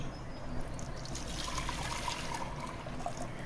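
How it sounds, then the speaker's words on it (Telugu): Horse gram cooking water poured into a pan, a steady continuous liquid stream trickling and splashing close by with no talking. "ఉడపోసిన నీళ్ళు ఇందులో పోద్దామండి."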